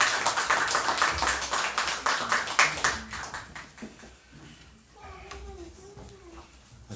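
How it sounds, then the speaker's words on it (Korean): A church congregation claps after a hymn, a dense burst of clapping that fades after a few seconds into quieter room sound with a voice and faint tones at the end. "하나님께 영광의 박수 올려드리겠습니다."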